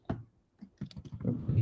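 Computer keyboard typing, a few quick irregular key clicks close by, ending in a rougher burst of noise, with no talking.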